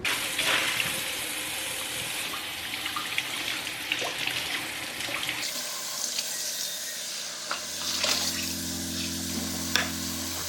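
New Caraway pans are rinsed under a running kitchen tap, giving a steady close rush of water with light scrapes and clinks, and a low hum joining toward the end.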